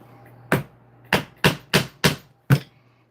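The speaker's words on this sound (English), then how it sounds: "it actually cuts the hole out of the leather and actually removes an actual plug of leather." A hammer drives worn hollow-tip leather chisels through leather in six sharp, separate strikes spread unevenly over three seconds, close and fairly loud in a quiet room.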